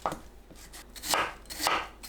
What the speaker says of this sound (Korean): 홍고추는 믹서에 갈기 좋게 대충 썰어줍니다